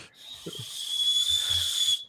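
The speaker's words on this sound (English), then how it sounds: "The weakest sounding whistle I've ever heard." A thin, airy whistle blown weakly, a steady breathy tone held for over a second with some low rustling noises underneath.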